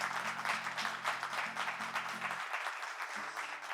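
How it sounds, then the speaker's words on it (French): A studio audience applauds loudly and steadily for a returning guest on a live French talk show set, with low background music tones running underneath. "J'aimerais que vous applaudissiez très très fort."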